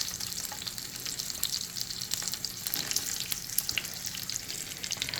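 Meatballs fry in a pan with a steady, crackling sizzle and occasional pops, close and moderately loud with no talk.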